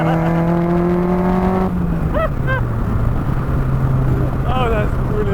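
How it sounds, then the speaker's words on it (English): Honda Civic with a K20 engine in an MK Indy RX-5 revving hard as VTEC engages, a loud steady drone rising in pitch with wind noise around it and a voice talking over the top. "as soon as that V-Tech kicks in,"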